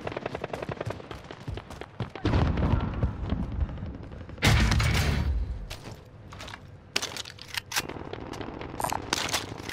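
Rifle gunfire in the video game Call of Duty: Modern Warfare, with dense bursts of shots and sharp cracks coming in clusters, loud and close, alternating with quieter gaps and scattered single reports.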